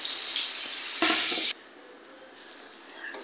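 Garlic and onion with a little turmeric frying in oil for a tempering, a steady close sizzle that flares louder for a moment, then cuts off to a quiet room.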